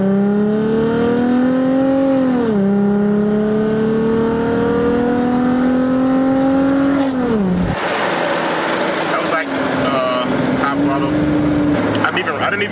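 An Infiniti G35's engine revs hard up and down, its tone climbing, dropping back, then rising again in several loud, close pulls before settling to a lower hum.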